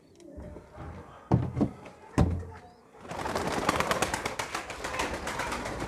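Pigeons coo in a loft with a few low calls, while wooden thunks and door knocks sound nearby, then a denser rustling and fluttering stretch follows; no talking.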